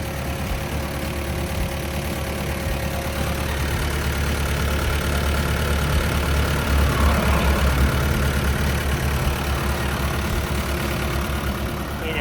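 A heavy diesel engine of a 7-ton Kobelco SK75UR-3E excavator idles steadily and loudly throughout, a constant low rumble with a faint knocking texture.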